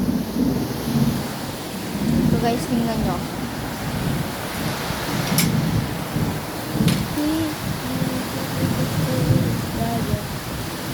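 Heavy rain pours down in San Luis, Pampanga, a dense steady wash with wind, while occasional sharp cracks stand out and someone talks over the downpour.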